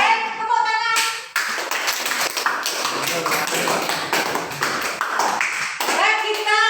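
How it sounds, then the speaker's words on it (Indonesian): A classroom crowd bursts into applause during a learning quiz, dense steady clapping lasting several seconds between short stretches of talk. "Baik, tepuk tangan."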